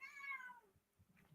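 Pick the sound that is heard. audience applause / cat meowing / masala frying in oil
cat meowing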